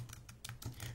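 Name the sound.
typing on a computer keyboard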